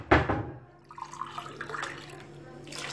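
Warm water is poured into a bowl of mixed dry ingredients for mini pizza dough, a brief splashing pour that settles into a softer trickle.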